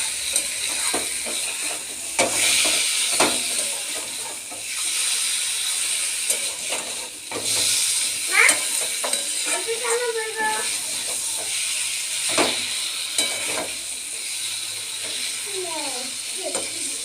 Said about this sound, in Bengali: এবার মাছগুলোকে খুব ভালো করে ভাজতে হবে মশলাটা দিয়ে।